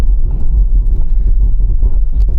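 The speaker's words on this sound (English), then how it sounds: "Full emergency stop now." A Range Rover Sport brakes hard in an emergency stop from 60 mph on a wet surface with ABS working, heard as a loud, steady low road and engine rumble.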